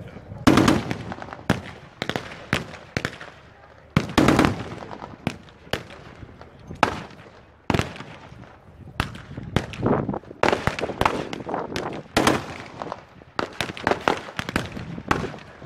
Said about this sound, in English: the German defenders' heavy machine guns, mortars and small arms subject the Americans to sustained fire